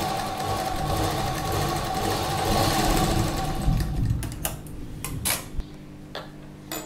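A sewing machine stitches a slip in one sustained close run that stops partway, followed by a few clicks and knocks as the fabric and machine are handled.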